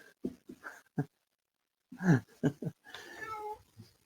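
A male cat gives a string of short meows and a longer drawn-out yowl indoors, close to the microphone, with pauses between calls and no talk.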